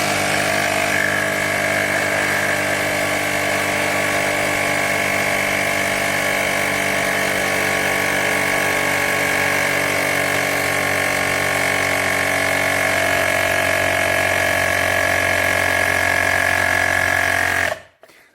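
A Woowind AP2-P electric bike pump runs steadily and loudly for about seventeen seconds, a constant motorised whine and hum with no speech over it, then cuts off abruptly.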